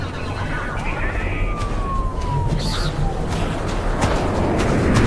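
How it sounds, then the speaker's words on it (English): Police sirens wail in a desert scene, with a falling tone that rises and fades under a steady wash of noise while someone talks over it. "this is somebody running in the desert, and those are sirens and lights, like police lights"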